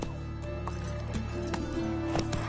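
Horse hooves clip-clopping in a Witcher video game, a steady trotting beat of hoof strikes over low ambient music and hum.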